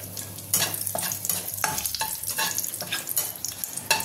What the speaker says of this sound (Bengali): এবার আমি বলে ফোড়নটা দিয়ে দেবো। দিয়ে দেবো তেজপাতা দুটো